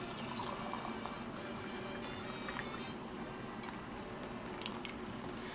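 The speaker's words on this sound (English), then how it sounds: "And then I get the boiling water," Boiling water pours into a teapot during afternoon tea, a steady faint splashing stream lasting several seconds with a few light clinks and no talk.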